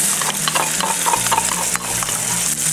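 Crushed garlic being smashed and mixed, heard as dense repeated mashing and stirring noises, close and fairly loud, continuous with small knocks throughout.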